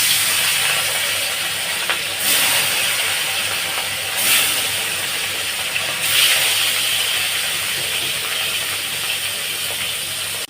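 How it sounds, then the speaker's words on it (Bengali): Katla fish sizzles in hot oil in a heated wok, a steady, fairly loud hiss with a few brief swells of crackle, and no voices. "গরম হয়ে গেছে, এবার মাছগুলো দিয়ে দেবো।"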